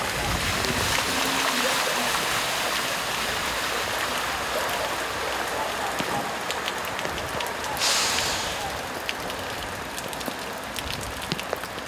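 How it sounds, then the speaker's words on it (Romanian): Heavy rain pours down on flooded streets where water rises over the curb and cars drive through it, producing a steady, dense wash of splashing and hiss that continues without a break. "șoferii fie au ales rute ocolitoare, fie au trecut cu mașinile prin apa care trecea de bordură"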